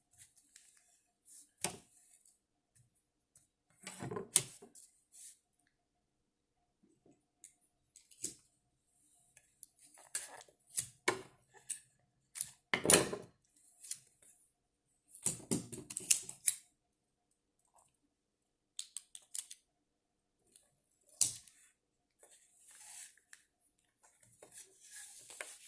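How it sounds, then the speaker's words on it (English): Tape and scissors at work while preparing a money pull-out cake: sparse, quiet bursts of snipping, tearing and rustling separated by silent gaps. "we didn't finish taping here."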